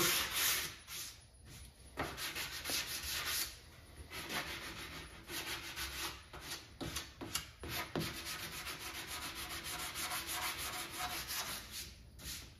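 Sandpaper rubs along the edge of a wooden arcade cabinet side in repeated scratchy strokes, a quiet, close, continuous rasping with no speech.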